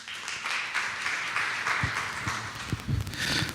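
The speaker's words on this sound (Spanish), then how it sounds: "Lo recibimos con un aplauso." Audience applause welcoming a speaker at a talk on road traffic accidents, a sustained crowd of clapping hands with a few sharper claps near the end, moderately loud throughout.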